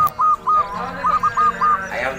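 A Japanese chicken on an Indonesian farm gives repeated loud, close, nasal calls in a stuttering series over a faint background.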